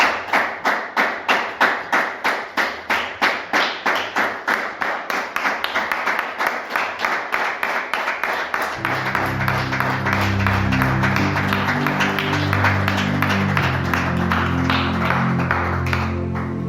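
Congregation in a church service clapping together in a steady, rapid rhythm of sharp beats, close and loud, then music enters as sustained instrumental tones beneath continuing applause.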